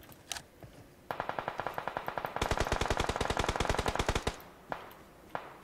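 Rapid automatic gunfire in a shooter video game, two sustained bursts of evenly spaced shots followed by a few isolated single shots, loud and sharp, no talking.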